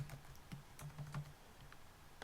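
Typing on a computer keyboard: a short run of quiet, irregular key clicks, close by and alone, with small pauses between strokes.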